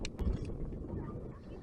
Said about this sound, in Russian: Но если слышно ветер, то ничего страшного.